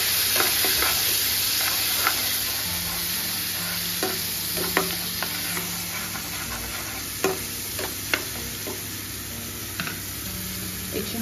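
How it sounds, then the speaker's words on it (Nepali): Garlic paste with a little ginger sizzles steadily in a hot pan, a constant frying hiss broken by scattered ticks and scrapes of stirring, with no voices. "एकछिन ब्राउन हुनेसम्म हामीले यसलाई फ्राई गर्नुपर्ने हुन्छ लसुनलाई।"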